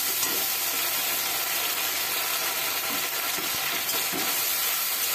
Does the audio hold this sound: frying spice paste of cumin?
yes